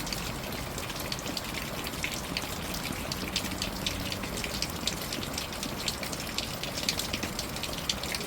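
Rainwater drips and splashes after a heavy rain in a Tamil village, a constant dense patter of small drops and splatters, steady and moderately faint throughout.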